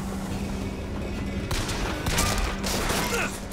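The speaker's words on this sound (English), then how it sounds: "it gives you a little crack when you get a headshot" Gunfire from a shoot-out in Bioshock Infinite, a steady barrage of shots with a sharper crack as a headshot lands, loud and up close throughout.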